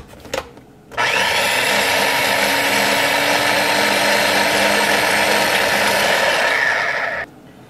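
A food processor pulses basil pesto to a coarse finish, one loud continuous whir running about six seconds at close range after a brief knock, then cutting off abruptly.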